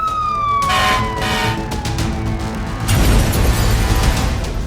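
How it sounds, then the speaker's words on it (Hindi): A fire engine siren wails loudly and falls in pitch as the truck nears a Tesla service station on quiet Las Vegas streets, over a heavy rumble of traffic and engine noise, with no voices. "फायर ब्रिगेड की गाड़ी आती दिख रही है।"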